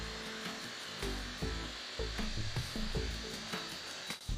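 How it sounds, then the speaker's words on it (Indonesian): A power tool spins an abrasive disc against wood while building a birdhouse, in repeated short bursts of grinding with brief pauses between, fairly close and alone without talk. "Mengikisnya lebih kasar daripada cakram amplas susun"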